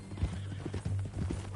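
Horse hooves clip-clop in the Red Dead Redemption 2 video game, a steady series of close muffled hoofbeats over a low ambient hum.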